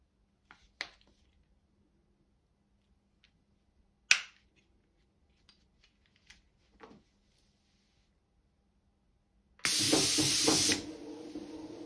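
Airless paint sprayer spraying emulsion latex paint at low pressure: after several faint clicks and knocks, a loud, steady hissing spray starts near the end and continues close up, with no talking.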